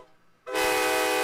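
A Twitch hype train alert plays during a livestream. It is a loud, sustained train horn that blasts in abruptly after a quiet moment and holds steady.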